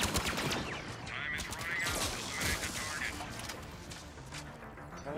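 Rapid gunfire in Mass Effect multiplayer, a dense crackle of shots that runs throughout the clip with loud bursts at first. Players talk over it.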